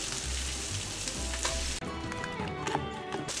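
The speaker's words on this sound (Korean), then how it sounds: "브로콜리 넣고 맛있게 볶자" Vegetable fried rice with diced Spam, scrambled egg and rice stir-fried in a pan, sizzling and crackling steadily up close with soft scraping stirs, no talking.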